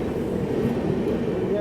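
Indian Railways express train held up in thick fog, giving a steady low rumble and hum close by, with voices talking over it throughout.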